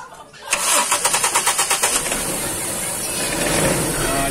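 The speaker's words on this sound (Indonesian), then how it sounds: "Ini jadi kita starter mesinnya teman-teman." A 1998 Toyota Kijang Kapsul SX engine is started: a rapid run of starter-motor chugs cranks for about a second and a half, then the engine catches and settles into a steady, close idle.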